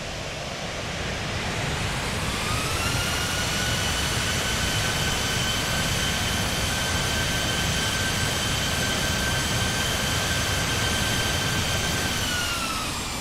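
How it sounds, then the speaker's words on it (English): A PMDG 737-800 in Microsoft Flight Simulator roars steadily as its thrust reversers deploy, a loud, continuous jet rush with a whine that climbs and then holds level throughout, no voices over it. "Thumbs up for that reverser sound."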